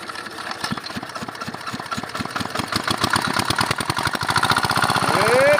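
Engine-driven water pump for draining a pond starting up: rapid regular chugging pulses that speed up and grow louder, settling into a steady close running drone.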